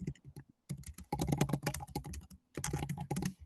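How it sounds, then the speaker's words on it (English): Fast, uneven bursts of computer keyboard typing, close and fairly loud, with short pauses between runs of keystrokes during an online seminar. "I'm just typing the answers down"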